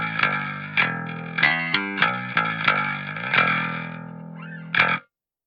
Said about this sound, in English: the vast range of this high pass dial allows us to add a further level of distortion into a wide range of frequencies